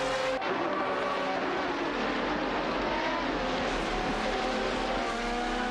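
Race cars in a racing video game, a Pagani and an Aston Martin DBR9, roaring continuously with a loud sustained engine whine that rises and shifts pitch, close and dense with no voices.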